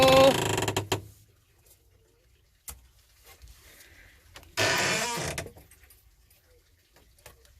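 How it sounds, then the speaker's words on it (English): A door opening in a quiet indoor room, a sharp click followed by a louder creaking, scraping burst, standing alone against near silence. "Did you hear my door opening there?"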